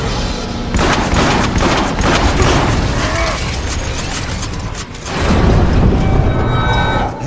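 Sustained bursts of sci-fi gunfire and mechanical blasts from Transformers: War for Cybertron pound at a huge glowing target, loud and dense for the whole stretch, with a brief dip before the barrage surges again.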